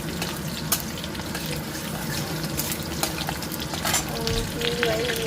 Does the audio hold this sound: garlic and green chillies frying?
yes